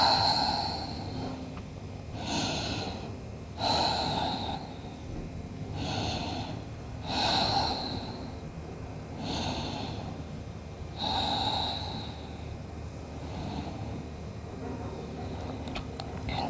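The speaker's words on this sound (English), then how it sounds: "start to breathe again, nice and deeply" Deep, steady breathing during a beginner's hatha yoga exercise, with a series of about seven close, airy breaths at regular intervals of roughly one and a half to two seconds, some sharper and snort-like.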